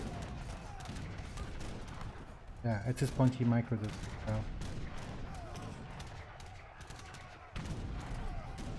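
Heavy cannon fire in a real-time strategy video game, a quick burst of booming shots mid-way amid scattered battle sounds, heard beneath a commentator talking.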